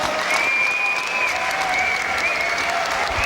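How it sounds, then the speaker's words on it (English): A boxing crowd gives both fighters a big round of applause at a show, dense continuous clapping and cheering with whistles rising above the roar. "give both boxers a huge round of applause"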